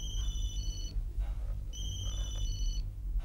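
A telephone rings twice in an office scene, each electronic trill lasting under a second and separated by a short pause, heard clearly over a low background hum.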